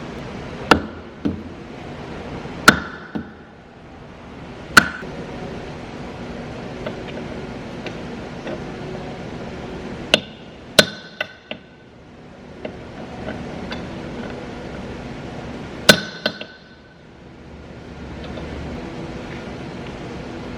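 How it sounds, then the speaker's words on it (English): Metal whacks against a rusted part stuck on a vehicle, heard as a handful of sharp, separate knocks spread out over quiet background noise, some in quick pairs. "So you think if you whacking it, this will come off?"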